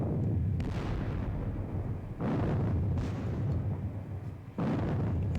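Artillery fire from the Napoleonic-era wargame WDS Battle of Friedland: heavy, rumbling booms roll in overlapping bursts, loud and continuous, with a fresh blast landing roughly every two seconds.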